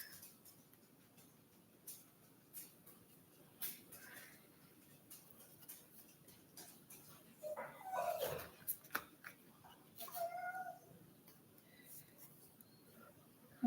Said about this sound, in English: Like if you hear noise in the background, that is my dog